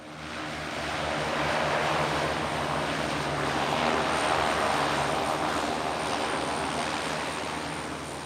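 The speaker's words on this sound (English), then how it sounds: "The runway is just about long enough to accommodate a light aeroplane if the wind's in the right direction" A light aeroplane's propeller engine drones loud and steady throughout, a sustained roar with a faint high whine, as the plane lands on a short island runway.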